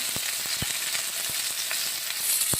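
Spices with chili powder and salt sauté in a pan for a rupchanda fish dish, giving a continuous sizzle broken by several sharp spattering pops and stirring scrapes.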